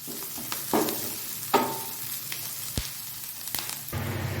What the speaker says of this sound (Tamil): இப்போது வெங்காயம் வந்து ஓரளவு நல்லா வதங்கிடுச்சு